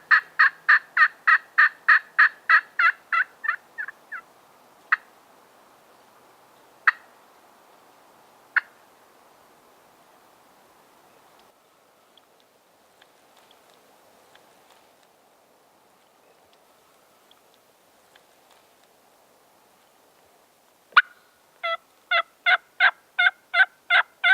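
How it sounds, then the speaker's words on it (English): A wild turkey gobbles in a rapid rattling burst in Alabama woods, a few sharp clucks follow amid quiet, then another loud gobbling burst ends it, fairly close. "Maybe we can get one of these turkeys fired up and get a gobble out of him."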